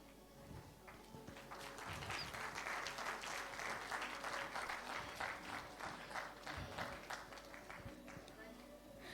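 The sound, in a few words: applause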